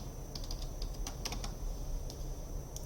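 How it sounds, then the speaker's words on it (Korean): Keys clatter on a computer keyboard as a shortcut is entered while writing CSS code, a short run of light, quick taps over a steady background hum. "복사는 Shift Alt 아랫방향 키를 하고 H2 그 다음에 P."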